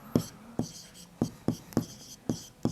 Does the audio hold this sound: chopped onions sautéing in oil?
no